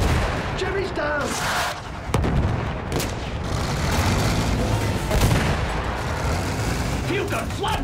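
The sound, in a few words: field gun and gunfire from the video game Battlefield 1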